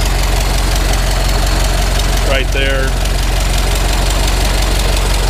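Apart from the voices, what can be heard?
Ford Model T four-cylinder engine idling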